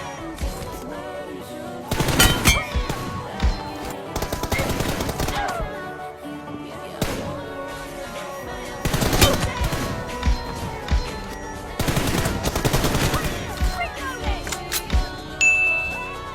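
PUBG/BGMI mobile game gunfire: rapid automatic bursts crackle in short clusters across the stretch, mixed with metallic clicks and chimes from the game, with no talking.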